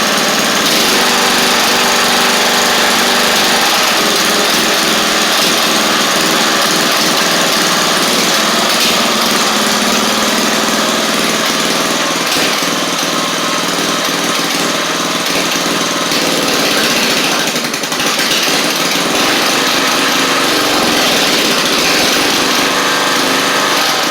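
A Briggs engine with a knocking fault runs continuously on an Eagle Star Noma riding mower, a loud, close, steady high-pitched drone with a rough edge and no break for the whole stretch.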